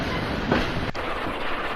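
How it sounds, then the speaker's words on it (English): A restored 1900s Wainwright D-Type steam locomotive of the South East Coast Railway hauls period coaches along a main line at a station gala, giving a steady, close rumble and wheel clatter with one brief dip midway. "Now coming through on the main line is the beautifully restored 1900s locomotive known as the D-Type"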